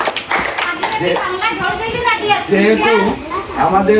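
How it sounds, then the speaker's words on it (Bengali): Clapping for a prize-winning eighth-grade student at a coaching centre picnic, mixed with children's chatter and an adult voice speaking over the steady burst of applause. "তার জন্য একটা হাততালি দাও"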